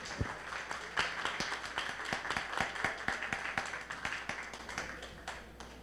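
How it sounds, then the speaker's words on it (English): An audience at a domestic violence awareness day applauds the panelists and moderator, with scattered claps standing out sharply over a thin, fairly quiet round of applause. "Let's give our panelists and moderator a big round of applause."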